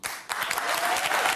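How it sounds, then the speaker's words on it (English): Members of Congress applauding Israeli Prime Minister Benjamin Netanyahu, a dense, steady wash of clapping from a large chamber audience that surges after a brief dip and holds strong throughout. "Liberals clapping for Bibi Netanyahu, who is not even fucking popular in Israel, bro."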